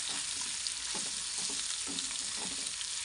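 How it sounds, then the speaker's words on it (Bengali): Onion rings frying in a pan for chicken soup, giving a dense, continuous sizzle close up, with faint knocks of stirring beneath it and no voices. "আর এখানে যে পেঁয়াজ রিং করে কেটে নিয়েছিলাম ওইগুলোও দিয়ে দিলাম, এগুলোকে ভালো করে ভেজে নেব।"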